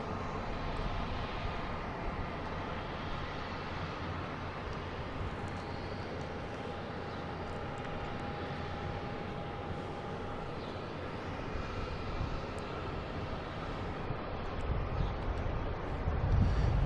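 A FedEx jet from Indianapolis moves at Boston Logan International Airport as a steady, broadband roar with wind buffeting, staying fairly even throughout and swelling slightly toward the end.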